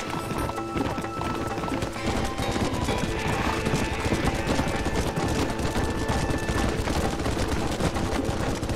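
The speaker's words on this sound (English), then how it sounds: "Get on your horses." Horses galloping in the Western video game Red Dead Redemption, a loud steady drumming of hoofbeats with scattered gunfire and game music layered over it throughout.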